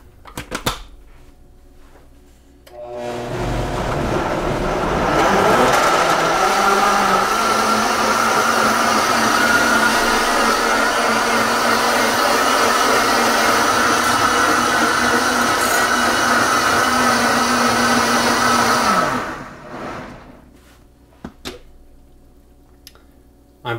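A blender whirs loudly for about sixteen seconds as it blends a green smoothie, starting up with a rising roar, holding a steady grinding drone, then cutting off and winding down.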